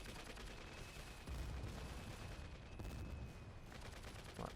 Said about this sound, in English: Ah, this one starts shooting.